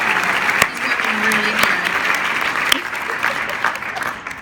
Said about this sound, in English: I think everyone should just give a big applause for Tom Schumacher